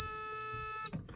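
Edwards 1527 fire alarm panel trouble buzzer sounding a single steady, shrill electronic tone for almost a second before cutting off abruptly, leaving faint room noise.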